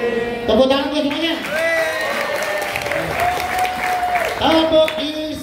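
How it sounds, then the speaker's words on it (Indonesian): Classroom children applauding together, mixed with their singing or chanting voices and crowd noise throughout, fairly loud and close, with a burst of livelier clapping near the end. "Tepuk tangan semuanya."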